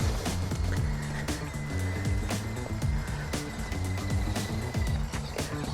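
An MN99S V2 Defender D90 RC crawler drives steadily along a road, giving a continuous whining motor and gear hum with rattling clicks from the chassis over a rough surface.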